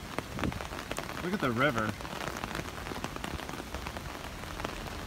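Heavy rain patters densely and continuously on surfaces nearby beside a swollen river, while a person briefly speaks over the downpour.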